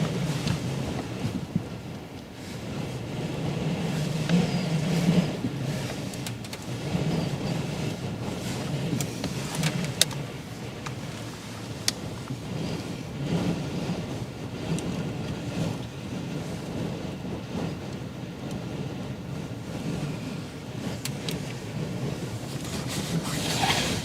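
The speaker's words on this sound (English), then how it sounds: "Oh, that's a lot of wind." Strong wind buffets the microphone at the seaside on the Westerschelde estuary, a continuous loud low rumble with gusty swells throughout and no clear talk.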